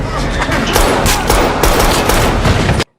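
Dense, loud gunfire fills an action film scene with a continuous barrage of rapid shots and crackling blasts, then cuts abruptly to silence.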